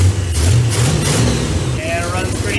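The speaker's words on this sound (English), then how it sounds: "pretty smooth running old engine. That W30 cam has nice load." An Oldsmobile 442 with a W30 cam, running in after break-in, idles with a low, steady, lumpy rumble close by while someone talks over it.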